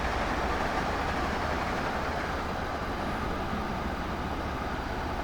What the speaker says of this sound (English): Oh, you have a train coming the other way.